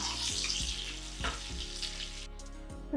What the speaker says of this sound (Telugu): మసాలా వేసుకొని ఫ్రై చేసుకుంటే ఏంటంటే బాగా పట్టిద్ది